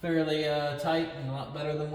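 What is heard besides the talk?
No distinct noise like a dog, phone or traffic.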